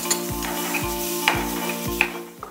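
Tomato, garlic and black pepper fry in a pan, sizzling steadily while a utensil stirs and scrapes in a regular rhythm of about five strokes, close up.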